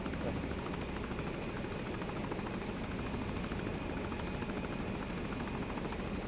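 A helicopter in the military game Arma drones as a steady, dense rotor and engine roar that fills the scene evenly from start to finish, with no speech over it.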